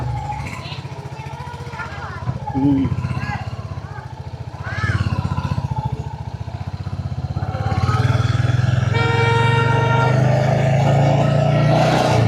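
A Royal Enfield Hunter 350 motorcycle runs underway with a steady low engine drone, its note rising as it pulls away, while people talk over the ride and a brief horn-like tone sounds near the end.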